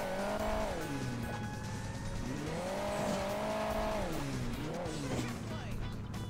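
A high, wavering engine whine rises and falls repeatedly, like a turbine-powered motorbike revving in Hill Climb Racing 2, with a whistling tone and brief voices underneath.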